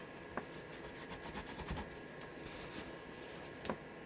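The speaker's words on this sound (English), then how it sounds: "I'm not scraping real hard either" Quiet, steady scraping of vinegar syndrome residue off the screen of an older Compaq laptop, a soft continuous rubbing with a few sharper scratches, close up and light-handed.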